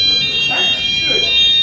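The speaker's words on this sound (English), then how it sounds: "on the panel we can mute the internal buzzer, silence the alarms" A fire alarm sounds after a break glass call point is activated, giving steady shrill electronic tones throughout a short stretch while someone talks over it nearby.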